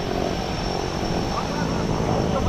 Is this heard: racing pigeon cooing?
no